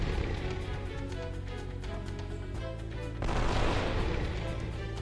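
A Gatling gun fires in a video game, a dense rapid stream of booming shots over a game soundtrack, growing louder and harsher in the final seconds.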